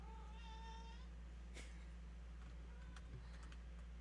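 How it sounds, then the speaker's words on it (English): A pet cat gives a single short meow near the start, fairly faint above a steady electrical hum, followed by a few soft clicks. "He is a very talkative kitty."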